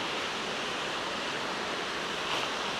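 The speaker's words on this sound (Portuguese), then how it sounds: "Cachoeira da Usina." The Cachoeira da Usina waterfall roars as a steady, dense broadband rush, constant and fairly loud with no voices over it.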